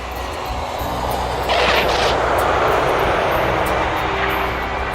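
A Pan Am airliner on approach makes a broad, loud roaring rumble that swells slightly mid-way and holds steady, with no voices.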